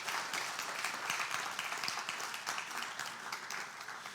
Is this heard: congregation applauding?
yes